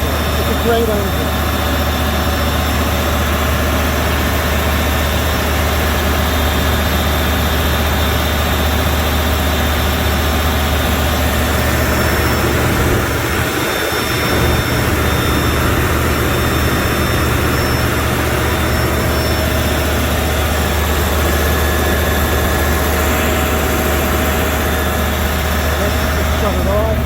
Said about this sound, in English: It's a great engine.